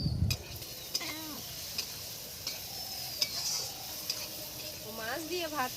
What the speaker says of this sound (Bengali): তেল গরম হয়ে গেছে, শুকনো লঙ্কা কালো জিরে ফোড়নে দিলাম।